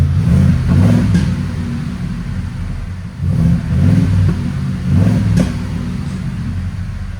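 A 2021 Ford F-250 with a 6.2-liter V8 and Valvetronics exhaust revs loudly in three deep, throaty pulses, each rising and falling back to a steady rumble.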